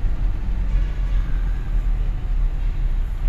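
A loud, steady low rumble of an MRT train passing Buendia Station, an elevated station in Makati, fills the air, continuous rolling noise with no voices.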